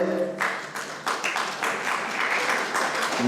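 An audience claps at a university IT festival event, a short burst of applause that builds and carries on steadily with no talk over it.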